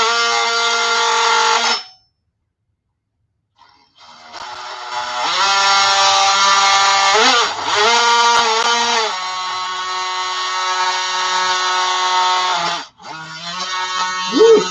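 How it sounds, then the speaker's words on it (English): A DeWalt oscillating tool cuts into a thick plastic case, a loud tonal buzzing whine close by that stops, then restarts with wavering pitch as the blade bites and drops away near the end. "So this is a DeWalt vibratory saw,"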